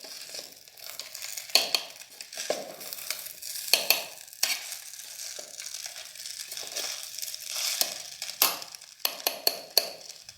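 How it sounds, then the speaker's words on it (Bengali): Maggi noodles being stirred inside an electric kettle, scraping and clinking strokes against the metal at irregular intervals over a faint bubbling sizzle, close by with no voices. "আমরা এবার একটু নাড়িয়ে নেব।"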